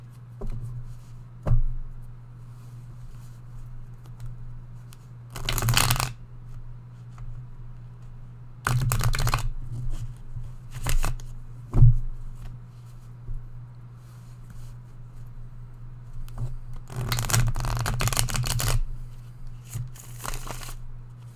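Bursts of cards being shuffled for a card reading, several separate riffling rushes spaced across the stretch, close and fairly loud over a steady low hum, with no talking.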